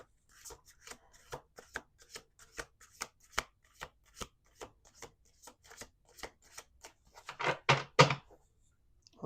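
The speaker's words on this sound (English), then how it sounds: "Let's do two more shuffles." A deck of playing cards is shuffled repeatedly, a rapid series of crisp flicking riffles close to the listener, ending in a louder, denser burst of card riffling before a pause.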